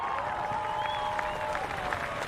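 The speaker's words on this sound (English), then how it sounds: "And a big round of applause from the crowd here." Crowd applause and cheering in the grandstands at the Indianapolis race track after a crash, a dense wash of distant clapping with faint tonal sounds over it.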